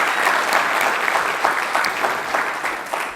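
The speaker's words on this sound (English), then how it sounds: "So if we could get just a quick round of applause for them helping to make this happen." Audience applause at a sports-media conference event, a steady dense clapping from a crowd that stays loud and even throughout, with no voices over it.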